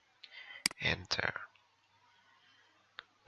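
A computer mouse gives a few sharp, close clicks, one amid a short stretch of soft talking and one alone near the end, in an otherwise quiet room.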